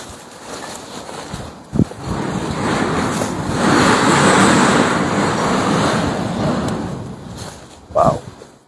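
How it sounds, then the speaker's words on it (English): A vehicle engine rumbles closer and swells into a broad roar before settling, with a couple of sharp knocks near the start and end. "there's a car just pulled up right next to it."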